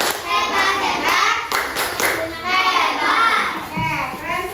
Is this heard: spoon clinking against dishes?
no